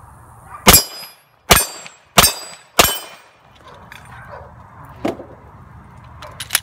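Four sharp, loud metallic clangs of 9mm rounds from a Glock with a Wilson Combat match-grade barrel hitting a steel target, evenly spaced and ringing briefly, followed by quieter outdoor ambience and a couple of fainter distant impacts.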